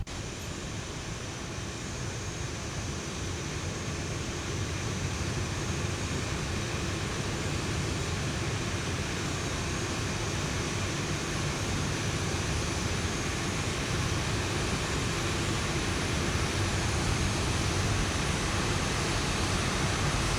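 Simulated airliner engines in X-Plane 11 on a Ryanair flight produce a constant, broadband roar with a steady drone and no change for the full stretch.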